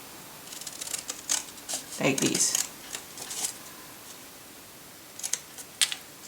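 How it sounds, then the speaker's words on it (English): Several crisp snips and rustles of scissors cutting paper, irregularly spaced in short bursts, with a brief spoken remark in between. "I'm going to just use scissors again"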